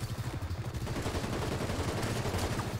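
Sustained automatic gunfire in a firefight in The Division 2, dense rattling bursts heard at a distance and fairly faint, running continuously with no clear breaks.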